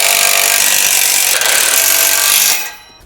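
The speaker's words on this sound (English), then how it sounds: "Grab your 9/16 wrench and ratchet and tighten her down." Loud, continuous ratcheting and grinding as a wrench and ratchet tighten bolts on a MicroSport Overland off-road tent trailer's low bed bars, running steadily before cutting off near the end.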